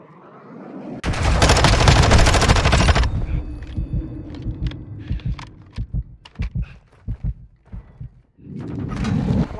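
Sniper rifle gunfire in a multiplayer search-and-destroy shooter match: a long dense burst of loud gunfire, then scattered sharp shots and clicks, and another heavy burst at the end.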